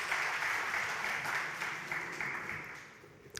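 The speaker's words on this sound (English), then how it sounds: "Please give a round of applause for Florin." A conference audience applauds a speaker at a software design talk, a broad even wash of many hands clapping that gradually thins and fades toward the end.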